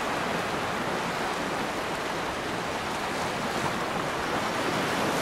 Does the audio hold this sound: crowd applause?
no